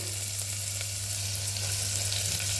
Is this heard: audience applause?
no